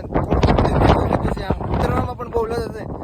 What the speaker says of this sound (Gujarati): થોડોક કષ્ટી રહે કેમ કે પવન છે બહુ ભારે